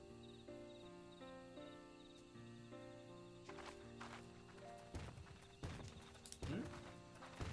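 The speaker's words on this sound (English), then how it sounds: "I hear footsteps. They're sound effects." Footstep sound effects from the video game Final Fantasy XIV sound under in-game music, starting as soft steps and becoming irregular, sharper thuds in the second half.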